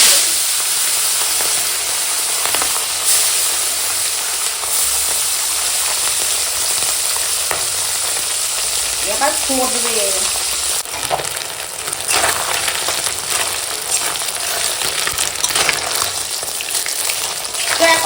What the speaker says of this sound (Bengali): মাছটা আগে একটু হালকা ভেজে নেব বেশি ভাজার দরকার নেই শিঙি মাছ